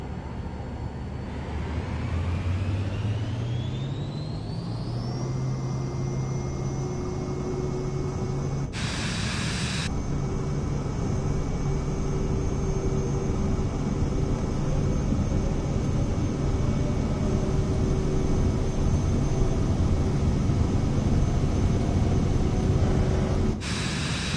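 Airliner engines spool up in Microsoft Flight Simulator 2024 on PS5, a steady loud jet roar with rising whine tones that climb then hold level through a takeoff roll, briefly interrupted by short bursts of broadband noise.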